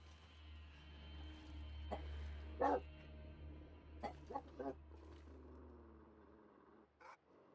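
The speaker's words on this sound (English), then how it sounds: "Apologize if you hear the barking." A dog barks somewhere beyond an open door while a video game plays with tense music, sounding as several short, fairly faint barks scattered over a steady low background hum.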